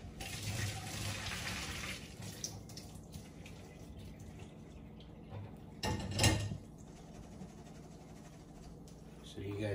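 Water from cooking fresh homemade keto pasta pours through a strainer at a kitchen sink, a steady rushing splash that eases off before a brief louder gush and clatter, with a voice talking faintly at times.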